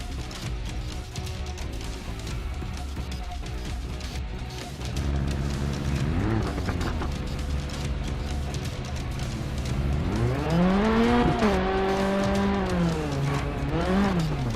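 A rally car in the Sébastien Loeb Rally EVO video game drives on a training course, its engine droning steadily, then revving harder with rising and falling pitch through gear changes and hard acceleration near the end.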